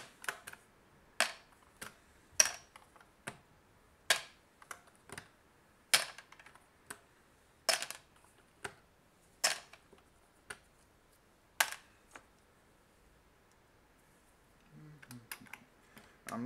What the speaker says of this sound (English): I'm going to begin by first putting all the keycaps into this tub.